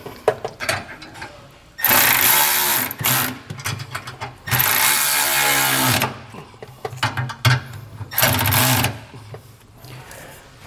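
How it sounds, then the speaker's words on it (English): Flange nuts being tightened with a 13 mm wrench while fitting a B and W Turnoverball gooseneck trailer hitch on a 2022 Ford, giving bursts of rapid mechanical ratcheting with short pauses between, close and fairly loud. "Now we'll go ahead and tighten those down with a 13."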